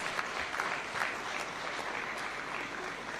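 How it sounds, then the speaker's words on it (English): Faint applause from an audience at a State House award ceremony in Kenya, a short steady patter of many hands clapping for about three seconds. "A round of applause for the"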